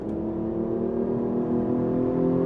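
Steady, close engine drone from a Hyundai Genesis Coupe's 3.8-liter V6 with an intake noise generator, holding a smooth throaty tone that builds slightly toward the end, with no voices.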